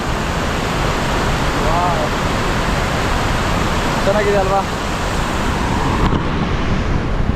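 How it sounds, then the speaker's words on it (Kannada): Water released from the Vani Vilasa Sagar dam rushes in a loud, steady roar that fills the whole clip, with a person speaking briefly over it. "ವಾಣಿವಿಲಾಸ ಸಾಗರ ಡ್ಯಾಮ್ ನೀರು ಓಪನ್ ಮಾಡ್ತಾರೆ ಎಷ್ಟು ಚೆನ್ನಾಗಿ ಹರಿತಾ ಇದೆ ನೋಡಿ ನೀರು"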